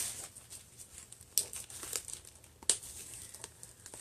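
Soft crinkling of plastic wrapping on a stamping supplies package with a few sharper crackles and rustles, close by and fairly quiet, no talking.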